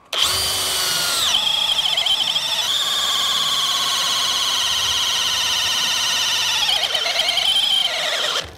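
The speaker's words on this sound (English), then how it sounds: "I think we're gonna speed up the drill to level 2." A power drill fitted with an auger bit bores through window studs, a loud close whine that shifts pitch as speed changes and keeps a steady high drone for several seconds.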